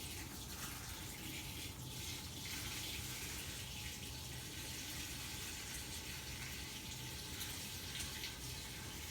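Water poured steadily from a gallon jug into a fermenting bucket of juneberries for homemade wine, a continuous close splashing rush lasting throughout with no talk.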